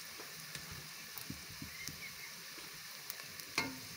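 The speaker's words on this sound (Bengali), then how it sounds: "এখন আমি আবারও খুব সুন্দরভাবে নেড়ে চেড়ে গরম তেলের সঙ্গে শুকনো মশলার উপকরণগুলো মিক্সড করে নিচ্ছি" Dry spices including turmeric, coriander and salt are stirred in hot oil for a roe fish curry with potatoes, giving a quiet, steady sizzle broken by soft spatula taps and one sharper knock.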